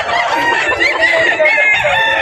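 Roosters at a Filipino gamefowl seller's yard, mostly black birds, crow and cluck loudly and close, with overlapping calls filling the whole stretch and no speech.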